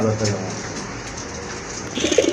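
A big-size racer pigeon, one of a cream-bar coloured pair, coos in low, repeated calls close by over a steady background hiss.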